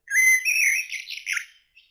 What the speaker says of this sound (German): Der Vogel fliegt hoch oben in der Luft.